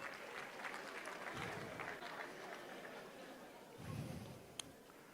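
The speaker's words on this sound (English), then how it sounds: "Give them a big round of applause." An audience at a conference awards evening applauds a band, a dense, fairly faint wash of clapping heard at a distance with some crowd murmur, lasting the whole moment.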